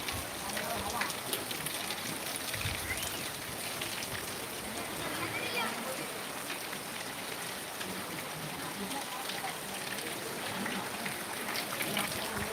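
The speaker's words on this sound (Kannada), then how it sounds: "ಮಳೆಗಾಲ ಅಲ್ಲ ಆದರೂ ಮಳೆ ಬರ್ತಾ ಇದೆ" Steady rain falls at night on the day after Deepavali, pattering continuously on surfaces outdoors under high-mast lights near a function, an even, close hiss that holds throughout.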